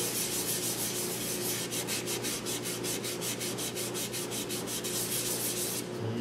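Steady, close sanding rubs across a walnut wooden bowl being finished, a continuous abrasive rasp with a faint rhythmic pulsing in the middle, heard alone.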